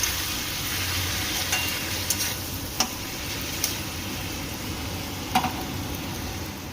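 Pasta stirred in a pan with tomato sauce and chili sauce for a Bengali-style egg pasta, heard as a steady close sizzle and frying hiss with a few sharp spoon clicks against the pan.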